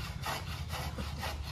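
Carpenter sawing wood outdoors, rhythmic back-and-forth rasping strokes at moderate distance, fairly quiet against a low steady background rumble, no speech.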